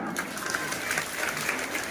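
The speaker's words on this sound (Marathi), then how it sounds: "वाजवणार का टाळ्या" Audience at a Mahayuti political rally for candidate Prataprao Chikhalikar claps in dense, sustained applause, a loud steady patter of many hands lasting the whole moment.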